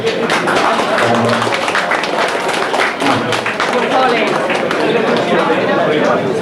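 A hotel function room at Killadoon Beach Hotel, 1992, fills with sustained applause for chairman Tommy Joe Barry. Dense, steady clapping from a crowd continues throughout with chatter mixed in.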